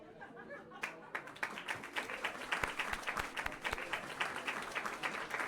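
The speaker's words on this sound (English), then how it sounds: "We'll stay nice and just applaud." An audience applauds with a dense crackle of many hands clapping, swelling after a brief quiet start and continuing steadily.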